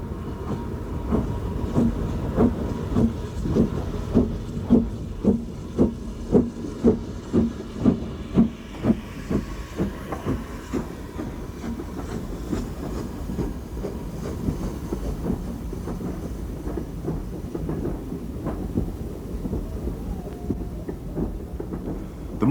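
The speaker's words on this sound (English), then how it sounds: "number 75078 leaves Bury with the first train of the day" BR steam locomotive number 75078 pulls away from Bury with the first train of a misty morning on a preserved line. Loud, evenly spaced exhaust beats quicken, then blend into a steady rumble and hiss.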